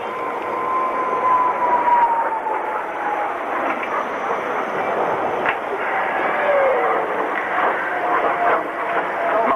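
L-29 Delphin jet trainer flying at an airshow, a steady broad engine roar held at a fairly constant level throughout, with a faint tonal whine drifting across it.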